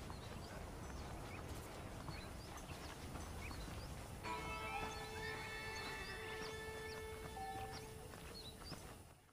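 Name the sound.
horses clip-clopping in the video game Red Dead Redemption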